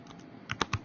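A handful of quick keystrokes tap on a computer keyboard, close and fairly quiet, in a short sparse burst with no talking.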